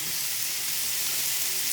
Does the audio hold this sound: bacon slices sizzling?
yes